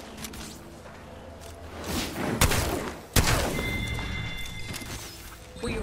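Gunfire in Apex Legends Season 13 comes as rapid bursts mixed with sharp impacts and whooshes in a dense, loud game soundscape with no talking.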